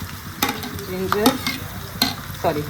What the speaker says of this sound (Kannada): ನಾವು ಒಂದೊಂದೇ ಆಗಿ ಕ್ಯಾಪ್ಸಿಕಮ್ಮು ಮತ್ತು ಚಿಲ್ಲಿ ಇದನ್ನೆಲ್ಲ ಹಾಕಿ ಫ್ರೈ ಮಾಡ್ಕೋಬೇಕು